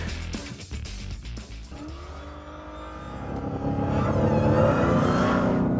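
A 2015 Dodge Challenger SRT Hellcat in track drive mode accelerates, its engine rising from a rough rumble into a loud, sustained climbing roar, close by and with no talk.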